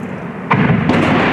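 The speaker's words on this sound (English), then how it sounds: "The frontline town of Mariinka was saying goodbye to our film crew with the sounds of battle in the background." Artillery fire on the frontline near the town of Mariinka, a single heavy boom about halfway in followed by a rolling rumble, heard from a distance outdoors.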